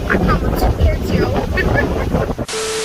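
Steady breeze buffets the microphone at a beach in Trinidad, a continuous rushing roar with a faint wash of surf beneath, cutting off abruptly near the end.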